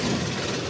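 An engine rumbles in a brief, close, steady low drone with a rough vibrating texture, lasting under a second.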